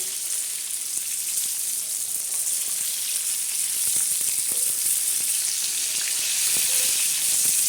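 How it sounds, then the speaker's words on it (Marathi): Semolina-coated fish frying in a pan gives a steady, close hiss of sizzling oil with faint crackles and pops, continuous throughout without talk. "असं ह्या बाजूने परत आपण उंचच आहे छान असे खरपूस मस्त आपण भाजणार आहोत"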